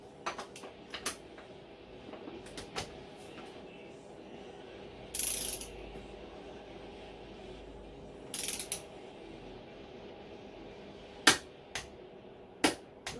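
A torque wrench on a Honda CB400T gives a series of sharp, close ratcheting clicks in separate bursts over a quiet background, with no talking.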